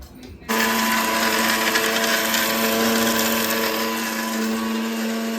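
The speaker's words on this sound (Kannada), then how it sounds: "ಇವಾಗ ಗ್ರೈಂಡ್ ಮಾಡ್ಕೊತಾ ಇದ್ದಾರೆ" A kitchen mixer grinder whirs at high speed as it grinds dry coconut into powder, starting abruptly after a brief quiet moment and running as a steady, loud, close whine to the end.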